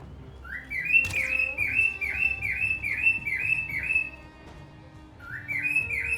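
In the plains of the game Valheim, a bird repeats a quick series of bright, even chirps, pausing briefly before starting again, clear and close with no talking.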